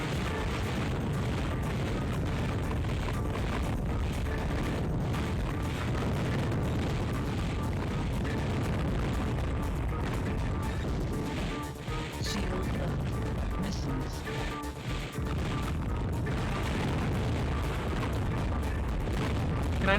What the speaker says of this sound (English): Alright, swarmer missiles.